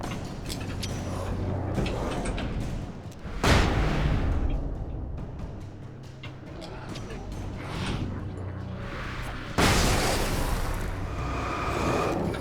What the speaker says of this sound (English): Let me drop a flashbang.